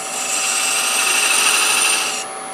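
A scraper works a bead into spinning wood on a lathe, giving a steady, loud whirring scrape with a high whine that cuts off sharply near the end, no talking.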